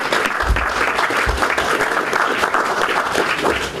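A crowd at a New York State Broadcasters Association honors event bursts into dense, loud, steady applause that holds at full strength for several seconds without letting up.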